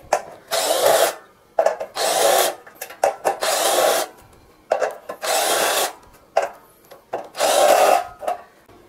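A 12-volt cordless power drill on variable speed setting 1 runs in repeated loud bursts of a few seconds each, separated by short pauses, close up with no talking.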